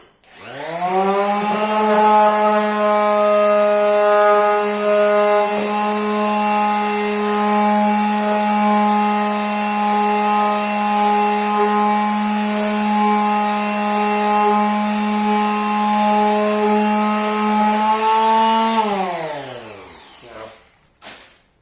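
Continuous harmonic motor whine of a power sander working on a kitchen cabinet during a cheap builder-grade renovation, loud and steady for about nineteen seconds before winding down and stopping, with no talking.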